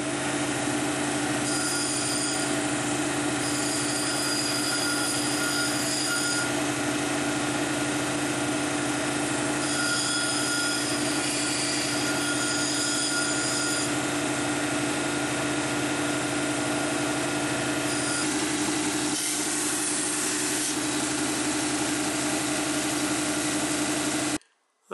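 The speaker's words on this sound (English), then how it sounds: "I just dried this off after running on the 280 wheel" A lapidary 280 grit wheel grinds and polishes greenstone with a steady, loud motor hum and continuous abrasive whir, unbroken for most of the stretch before cutting off abruptly at the end.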